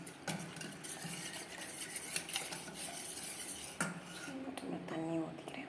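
A spoon clinks and scrapes against a vessel while health mix powder is stirred in to dissolve without lumps, steady rhythmic scraping throughout at close range with light metallic knocks.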